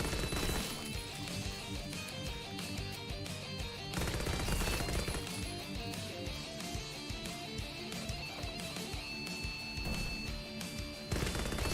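A stun grenade going off in a video game, with a sharp burst about four seconds in set against steady gunfire and busy game sound, no talking.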